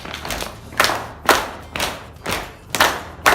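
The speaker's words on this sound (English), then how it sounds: "Let's bring in slap, slap, clap," An exercise class slaps thighs and claps hands in a steady repeating rhythm of crisp, hollow smacks, paired beats recurring about every half second.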